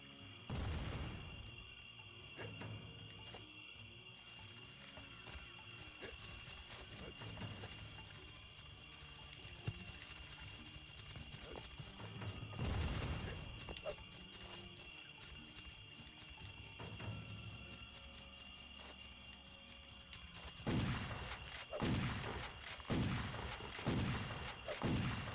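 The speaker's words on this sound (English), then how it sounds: "But if I chuck your grenade, do you blow up?" A grenade goes off in the shooter game Turok Evolution among ongoing combat, with booming blasts and gunfire over a steady high ambient tone. Heavier repeated detonations cluster near the end, with no voices.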